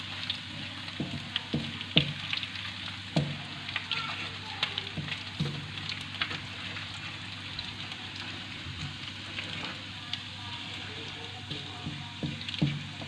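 Whole cumin seeds sizzle and crackle in hot oil in a pan while being stirred, a steady soft frying hiss with scattered sharp pops and occasional utensil scrapes, fairly quiet and without talk.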